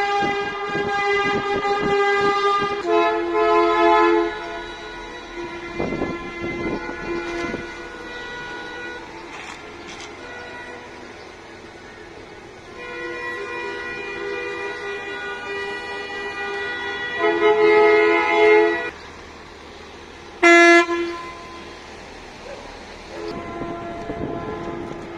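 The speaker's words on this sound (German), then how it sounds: "Aber das Gehupe ging weiter und weiter und weiter und weiter und es hat gar nicht mehr aufgehört." Vehicle horns honk on and on at a street demonstration in Berlin, long sustained blaring tones that overlap, swell and drop, with one sharp loud blast near the end, heard without any talking.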